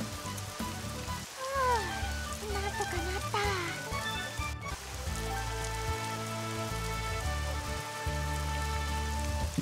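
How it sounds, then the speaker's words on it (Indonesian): Light in-game rain patter from a mobile role-playing game, a soft hiss under game music with tonal melody lines. "Hujan teman-teman"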